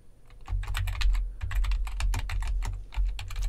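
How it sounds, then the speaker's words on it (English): Fast typing on a computer keyboard while entering text in PowerPoint on a Mac, a close, steady patter of key clicks with short pauses in between and no talking. "I'm going to type in"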